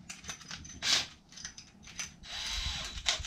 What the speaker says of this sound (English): So let's drill that hole.